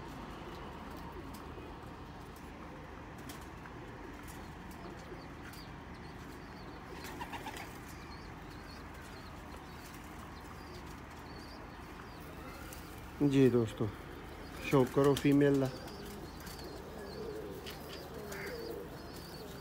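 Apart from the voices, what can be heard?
pigeons cooing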